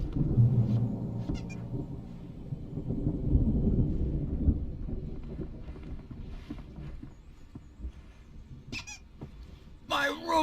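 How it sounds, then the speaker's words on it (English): A deep thunderstorm rumble rolls loud and low through the first half in the video game Alan Wake, slowly fading, with squeaks and a voice speaking near the end. "There's a storm coming. Oh, what a storm."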